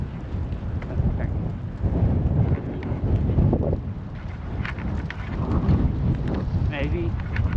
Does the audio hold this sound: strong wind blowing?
yes